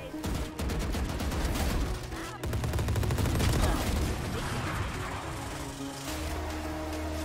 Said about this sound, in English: the Vandal retains high damage over distance and rewards those who focus single shots at the target's head